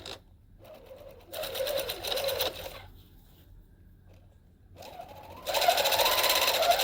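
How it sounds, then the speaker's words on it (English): A sewing machine stitches the center front seam of a dress bodice in bursts, running a few seconds, pausing, then whirring again louder and steadier near the end, with no talking. "So I'm starting with the front bodice, the center front seam, piecing that together"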